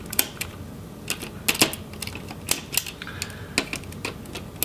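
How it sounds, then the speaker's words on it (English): Small screws are backed out of a Lenovo Yoga 920 laptop's heatsink with a screwdriver: soft, irregular clicks and ticks recur close up over a quiet background, with no talking. "we'll go ahead and remove the screws for the heatsink"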